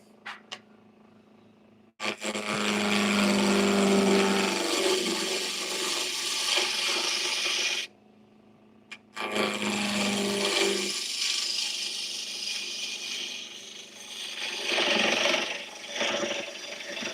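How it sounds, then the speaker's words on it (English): A bowl gouge cutting wood on a lathe, a loud, rough, hissing shear in long sustained passes, broken by a short pause, close and alone. "we're going to flip to our bowl gouge now"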